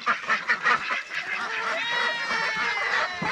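Ducks and geese on a family farm during morning chores, a run of loud honks and quacks close by at first, then a dense overlapping flock chatter continuing without speech.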